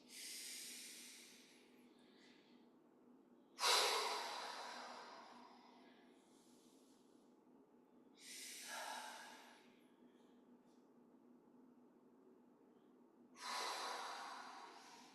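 Slow, deep breaths during a standing qigong exercise, four airy inhale-exhale swells spaced several seconds apart, close to the microphone with quiet pauses between.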